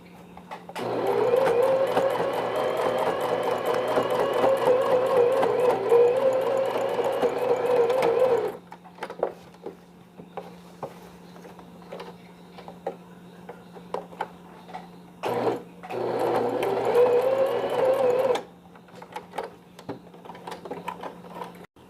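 A sewing machine stitches piping onto a newborn baby bonnet, running loud and steady for several seconds, pausing, then starting up again for a second long run over a constant low hum.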